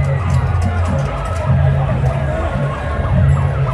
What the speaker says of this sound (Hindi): ये बनोरी में जो ही एक एम्बुलेंस आई है फटाफट रस्तों दी होगी